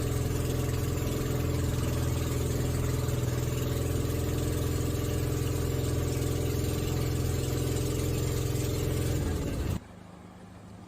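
A loud, droning boat engine runs steadily at close range, then cuts off abruptly near the end, leaving quieter background noise, at Cauayan in the Philippines.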